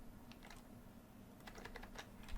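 Typing on a computer keyboard, a short run of quiet, quick key clicks near the end, faint against a low background hum.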